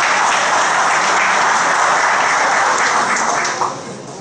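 A council chamber audience applauds a military police officer receiving an honour, with dense continuous clapping that fades toward the end.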